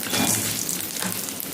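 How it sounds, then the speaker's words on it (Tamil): Garlic sautéing in a pan for an okra pachadi, with a steady, dense sizzle that carries unbroken from start to finish, close and fairly loud, with no voices. "பூண்டு சேர்த்து நல்லா வதக்கிக்கலாம்"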